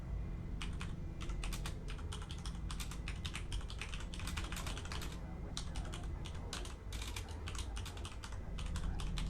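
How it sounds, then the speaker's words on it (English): Steady typing on a computer keyboard during an EVE Online live stream: rapid bursts of key clicks, moderately close, running almost continuously over a constant background hum. "we can hear you typing."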